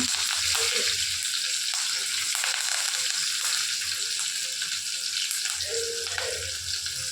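Green chillies and curry leaves sizzle and crackle loudly in hot tempering oil in a pan, a steady close frying hiss that runs without a break.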